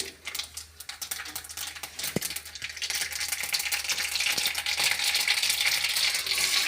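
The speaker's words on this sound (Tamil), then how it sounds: "எண்ணெய் சூடு எரிச்சு கடுகு போட்டேன்" Mustard seeds crackle and pop in hot oil for a cabbage poriyal, a dense, steadily building sizzle with rapid spattering clicks, close and fairly quiet.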